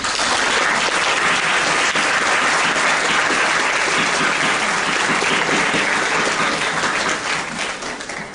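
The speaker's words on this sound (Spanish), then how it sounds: "Nuevamente, Miguel Ángel, te recibimos con un aplauso que es bien merecido lo que haces" Sustained loud applause from an audience at a university law faculty event welcoming a professor named Miguel Ángel, dense steady clapping that fades slightly toward the end.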